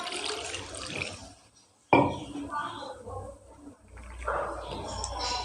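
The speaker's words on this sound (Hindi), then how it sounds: "एक 2 दफ़ा पानी डाल के इसको धो लें।" Water splashes and pours over homemade butter being washed in a container while making desi ghee, coming in uneven bursts with a sharp splash partway through and some talking alongside.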